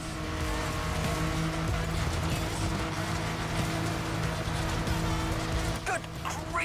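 Car driving flat out downhill on an off-road track, its engine roaring loud and steady throughout with tyre and gravel noise, and a few brief clatters near the end.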